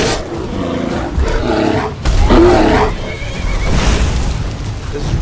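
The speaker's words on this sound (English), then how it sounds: "I need my horses to serve in combat." A loud, strained horse neigh and whinny rises and falls in several bursts over a roaring, rumbling background in the video game Skyrim.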